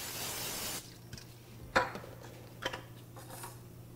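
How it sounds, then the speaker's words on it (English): A broad hiss of cooking spray on a frying pan lasts under a second, followed by a couple of light metallic clinks from the pan. "And then I will lightly spray my pan."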